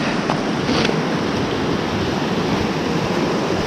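A small, cold stream on an Adirondacks hiking trail rushes with a continuous close broadband wash of flowing water, alone without talk.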